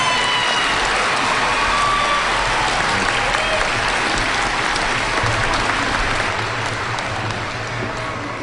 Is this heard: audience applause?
yes